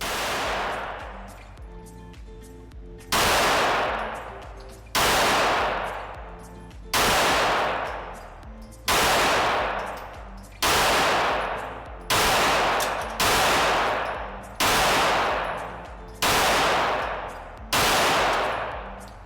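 A Girsan Regard MC Beretta-style pistol fires about nine sharp, loud shots at a slightly uneven pace of roughly one every two seconds, each crack trailing off in a long echoing decay.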